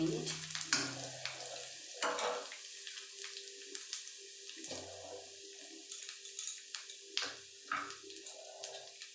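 Ginger fries in a pan for a vegetarian chickpea curry, a faint sizzle broken by sparse clinks and scrapes of stirring, close and quiet.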